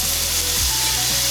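A Wagyu steak sizzles in a hot pan, a loud continuous crackling hiss with no talk over it.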